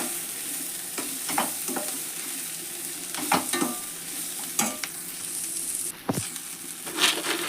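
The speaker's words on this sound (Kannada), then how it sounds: "ಚೌಳಿಕಾಯಿ ಹಾಕಿ ಎಲ್ಲ ಕಲಸ್ಬೇಕ್ರಿ" Fried cluster beans being stirred in a pan for a North Karnataka palya, with intermittent scraping and clinking strokes over a soft steady sizzle, close and clear with no talking.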